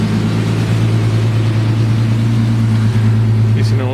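A Jeep engine races at a high, steady idle, loud and close, holding a constant drone with no clear rise or fall.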